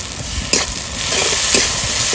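Pieces frying in hot oil in a Bengali kitchen give a steady close sizzle and hiss that swells slightly, with a few soft clinks of a utensil against the pan.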